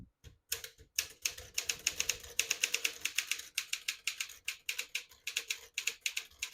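Rapid typing on a 1957 Smith-Corona Silent-Super portable typewriter, a steady run of close, crisp key strikes in quick bursts with brief pauses, heard alone without talk.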